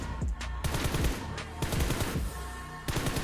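Rapid automatic gunfire from the mobile shooter PUBG Mobile, as a player stands still and shoots at practice targets: bursts of sharp, loud shots separated by brief pauses.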